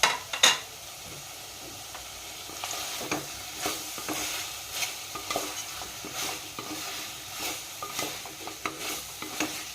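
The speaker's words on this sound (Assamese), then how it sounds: "মাংস আৰু আলু যেতিয়ালৈকে ভজা নাযায় তেতিয়ালৈকে ভাজি থাকিম" Meat and potatoes fry in a pan over a low flame, a steady soft sizzle broken by repeated scrapes and clinks of a spoon stirring against the metal, with no voices.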